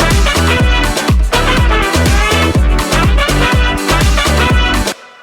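Full drop of an Afro House track: dense electronic mix with a steady pounding kick and bass, layered synths and percussion, loud and continuous before cutting off abruptly near the end, no voices.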